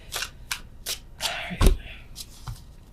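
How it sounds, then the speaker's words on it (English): Tarot cards being moved and shuffled by hand, a series of short crisp riffling bursts and soft slaps spaced through the moment, with one louder thump near the middle, close and fairly quiet. "I was just moving the cards."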